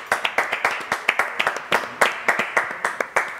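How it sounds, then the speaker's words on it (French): A small live-music audience clapping for a song collective, with loose, uneven hand claps close by, several people clapping at different rhythms rather than a dense roar. "on va les applaudir quand même"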